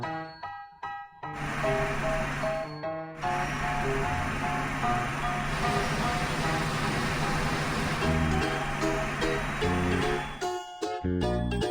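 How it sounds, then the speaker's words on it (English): Cartoon cars driving out of a parking lot, rendered as a bright, jingly melody with layered tones that starts with a few short bursts and then plays steadily and loudly almost throughout. "Slide the car to drive it out of the parking lot."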